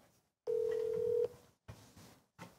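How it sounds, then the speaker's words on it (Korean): Telephone dialing a call, a steady electronic tone held for nearly a second, followed by short bursts of line noise, close and clear with no talk. "영종한테 전화 한번 해볼까?"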